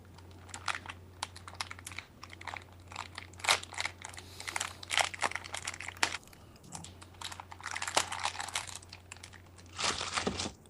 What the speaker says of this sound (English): That was me opening cookies